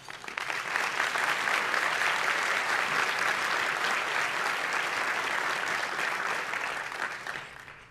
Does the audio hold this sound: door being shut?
no